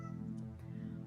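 A cat in a video game gives a faint, drawn-out meow over a steady tonal background.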